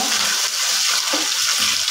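Fish frying in hot oil, a loud, dense, continuous sizzle heard up close with slight surges as the pieces are turned.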